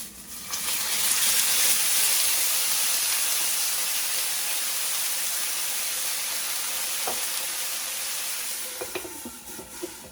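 Loud steady hissing and sizzling as a quarter cup of water hits a hot pan of gyoza, easing slightly over time with a few faint clinks near the end.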